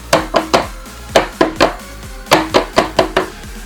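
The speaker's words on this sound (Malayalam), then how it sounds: "ഇതില് ബബിൾസ് പോവാൻ വേണ്ടിയിട്ട് ഞാൻ ചെറുതായിട്ടൊന്ന് തട്ടി കൊടുക്കുന്നുണ്ട്" A cake tin of vanilla batter tapped lightly on a counter to knock out bubbles, a quick run of sharp, close taps falling in uneven pairs and triplets, with no talk.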